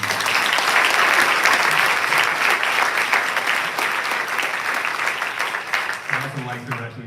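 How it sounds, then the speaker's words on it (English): A seated audience at a senior awards ceremony for the class of 2024 applauds the award presenters, a dense, sustained burst of many hands clapping that thins slightly near the end as a faint voice appears. "A round of applause for all who gave awards."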